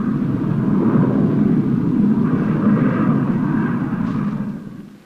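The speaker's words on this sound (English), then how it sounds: "In President Johnson's plane, General Ne Win flies to New York to visit the United Nations." President Johnson's plane en route to New York, a loud continuous airliner engine roar holding steady for several seconds before fading slightly at the end, no voices.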